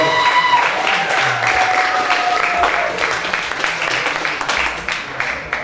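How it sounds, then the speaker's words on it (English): A crowd applauds steadily for several seconds, dense clapping filling the room with some voices mixed in. "Give a big round of applause"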